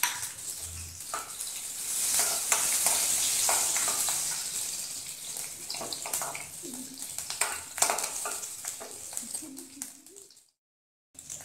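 Curry leaves and finely chopped green chillies sizzle in hot oil for a Gujarati-style dahi aloo, a steady bright crackle with some stirring and utensil clinks that cuts off near the end.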